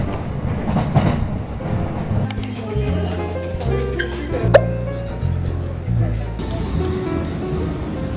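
A Wakayama Electric Railway train in Japan rumbles along with steady low rolling noise and a few sharp squeals and clicks, while people talk over it throughout.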